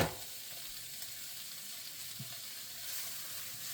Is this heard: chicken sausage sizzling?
yes